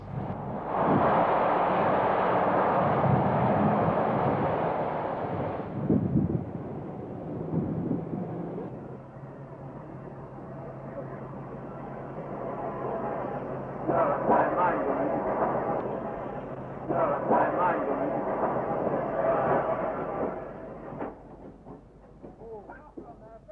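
A 1916 Pickersgill 4-4-0 steam locomotive, class 3P, running with a deep rumbling roar, first loud and close and then a lower, steadier chugging with rhythmic bursts that fade toward the end.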